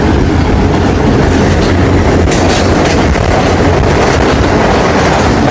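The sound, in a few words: Pakistan Railways train picking up speed, Lahore to Peshawar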